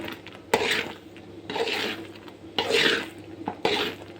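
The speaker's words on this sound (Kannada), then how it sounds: "ಏಲಕ್ಕಿ ಹಾಕಿ ಸ್ವಲ್ಪ ಚೆನ್ನಾಗಿ ತಿರುಕು ನೋಡಿ" Milk with cardamom stirred in a pot, a spoon scraping and knocking against the metal in four separate bursts, close and moderately loud, with no talking.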